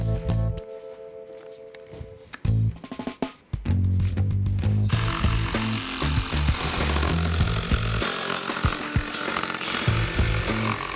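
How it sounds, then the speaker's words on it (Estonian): A jigsaw cuts a drawn shape out of a wooden base board for a homemade dice game table: a few seconds of scattered knocks, then a loud, steady, buzzing saw roar that runs close by to the end. "Joonistatud kuju saed siis tikksaega välja."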